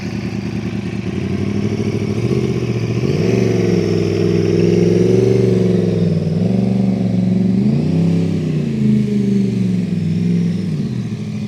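A Yamaha R1 motorcycle turns around at a test centre with a loud, close engine held at low revs that rises and falls in pitch a couple of times during the slow manoeuvre.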